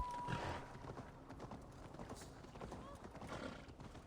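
Horse hooves clopping with a brief neigh in Assassin's Creed Valhalla, under steady game background noise; no clear talk over it.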